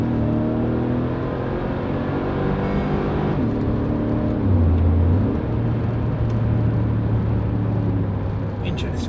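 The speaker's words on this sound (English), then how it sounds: "Let's hear the engine again." A 2017 Mercedes-Benz G63 AMG Edition 463 V8 is heard from inside the cabin, a deep, loud engine drone that rises and shifts in pitch as the car accelerates, with steady road rumble underneath.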